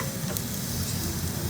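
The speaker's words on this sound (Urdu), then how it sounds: "تقریباً 5 سے 7 منٹ تک کریلے بہت اچھے طریقے سے میڈیم فلیم پر براؤن ہو جائیں گے، ماشاءاللہ فرائی ہو جائیں" Bitter gourds (karela) fry in oil over a medium flame for beef qeema karela, giving a steady close sizzle with faint stirring.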